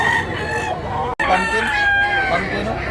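A White Hatch gamefowl rooster at Tabunok, Talisay, Cebu crows loudly and close by in a long drawn-out call, with other fowl clucking around it and someone talking over the birds.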